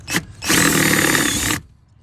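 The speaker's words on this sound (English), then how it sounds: "This is a step-up drill bit" A power drill with a step drill bit whirs loudly for about a second after a brief initial burst, then cuts off, leaving quiet.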